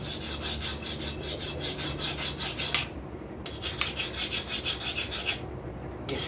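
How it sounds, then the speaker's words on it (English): A hand file skates across a hardened steel square punch in rapid, even rasping strokes, loud and close, with a brief pause partway through before the scraping resumes. "we'll see if the file cuts or if it skates"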